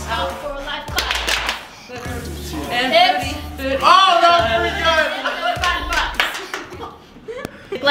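Several people clap their hands in a rough beat while practising a TikTok dance, sharp claps mixed with talking and light laughter close by.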